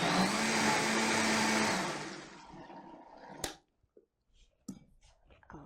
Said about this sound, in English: And we'll give it a quick blend